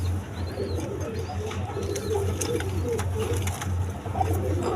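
Kokka pigeons coo in a low, continuous rolling murmur close at hand, several birds overlapping, with faint scattered clicks and rustles around them.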